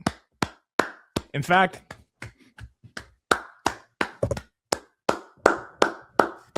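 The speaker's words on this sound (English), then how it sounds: "I don't know how clapping sounds." Hand clapping during a basketball talk segment: a string of sharp, separate claps in uneven rhythm, close and loud, with brief speech cutting in between.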